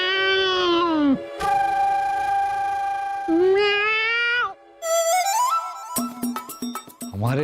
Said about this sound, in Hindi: हमारे रसोई घर में फिर बिल्ली।